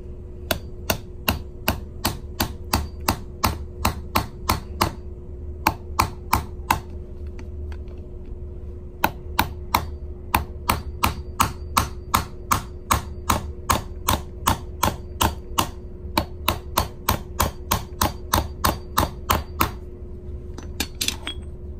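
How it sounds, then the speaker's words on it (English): Metal hammer repeatedly striking a coin seated on a steel ring mandrel, a fast run of sharp bright taps in bursts with brief pauses, close and loud over a low steady hum. "Well, I'm gonna hammer on the top of this."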